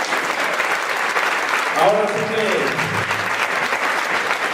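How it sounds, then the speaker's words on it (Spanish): A church congregation claps loudly and steadily throughout, a thick wash of applause with a brief spoken exclamation rising over it partway through. "Denle un aplauso a Cristo, hermano."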